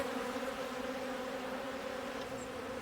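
Honeybees buzzing steadily and close at a woodland apiary in Italy, a continuous dense drone with no pauses from start to end.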